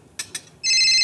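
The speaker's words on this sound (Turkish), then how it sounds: "kim arıyor? Baksana telefonuna." After two short clicks, a mobile phone begins ringing loudly and close with a bright, steady electronic ringtone, in a home setting.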